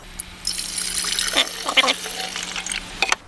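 Water poured from a pitcher into the tank of a procharged Scat Pack car, a continuous splashing, gurgling pour with a few sharper sloshes near the end, close and moderately quiet with no talking.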